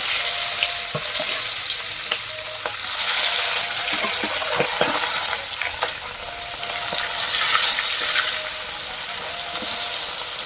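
Continuous loud sizzling of fish frying in hot oil, with occasional pops and scraping stirs, no voices.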